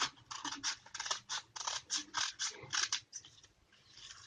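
Scissors cut through stiff buckram cloth, a close, quiet series of about a dozen crisp rhythmic snips and crunches, with no voices.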